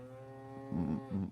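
Cows mooing, two drawn-out, low bellowing calls that rise over a steady humming drone, close and fairly loud, with the second moo shorter than the first.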